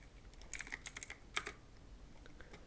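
Typing on a computer keyboard, a short burst of light, close key clicks in an irregular cluster followed by a couple of faint taps, with no talk.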